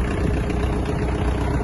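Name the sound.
Kubota X-20 mini tractor diesel engine starting and idling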